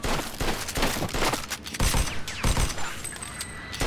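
A string of loud, sharp Mafia II game gunshots fired in quick clusters, punchy and close, with a faint high electronic tone lingering near the end.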